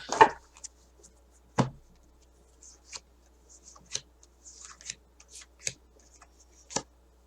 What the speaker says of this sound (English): let's pull some more cards for the Capricorns.